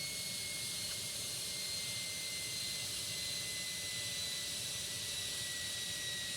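Lufthansa jet airliner coming in to land at Copenhagen in an air traffic control tower simulator, a steady distant roar of jet engines with a high whine, continuous and even throughout, no voices.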